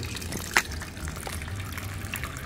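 Cold tap water runs into a large cooking pot in a home Mexican kitchen, a steady close splashing rush with a brief knock early on and no talking.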